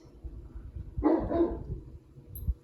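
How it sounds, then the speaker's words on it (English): A single deep bark from a Great Dane outdoors, distant, muffled and fairly faint, amid low background rumble. "my dog's outside barking"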